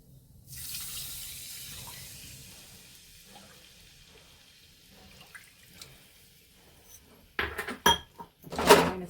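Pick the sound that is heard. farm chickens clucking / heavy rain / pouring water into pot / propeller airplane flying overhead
pouring water into pot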